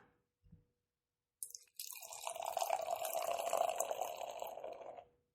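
A 7.5% IPA being poured into a glass: a short clink, then about three seconds of steady, fairly quiet gurgling, splashing liquid that stops abruptly, with no one speaking.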